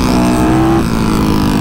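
Motorcycle exhaust popping while the rider holds a wheelie on engine braking, a loud close rumble with crackling pops throughout and no talk.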